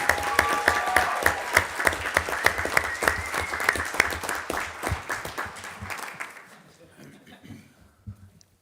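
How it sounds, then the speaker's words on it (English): Applause fills a city council meeting chamber: a steady patter of many hands clapping, fairly close, tapering off and fading to quiet near the end. "So I think we owe you a round of applause as well"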